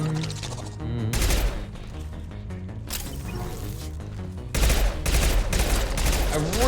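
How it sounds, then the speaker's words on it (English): Submachine gun fire in the 2010 PC action RPG Mass Effect 2, bursts of loud close shots in several clusters, the heaviest volley near the end, over a backdrop of game sound. "I really wish we had a gun other than the SMG that had ammo."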